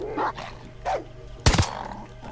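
Dog barking in the video game Far Cry 6: two short barks, then a louder, sharper bark with a yip, close and alone with game ambience beneath.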